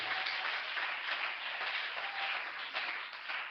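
A church congregation applauding the Lord during a morning service, steady sustained clapping throughout, somewhat distant and muffled, with no speech over it.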